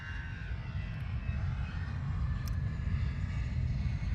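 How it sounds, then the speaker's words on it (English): An Allegiant Airlines jet airliner departs an Ohio airport during an airshow weekend, a steady distant roar of jet engines holding throughout, moderately loud with no speech over it. "That airplane departure you're hearing is an Allegiant flight."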